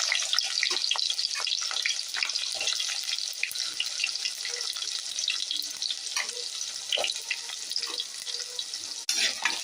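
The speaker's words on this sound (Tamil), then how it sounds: "வெங்காயம் நல்லா வதங்கட்டும்" Chopped onions sautéing in hot oil for a fish curry, a steady close crackling sizzle with occasional stirring taps against the pan.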